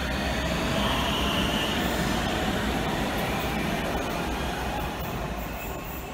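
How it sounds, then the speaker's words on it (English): A Munich U-Bahn Type C subway train rumbles loudly and continuously close by, with wheels squealing faintly over the steady roar. "And this train, which is a Type C train, is also very modern."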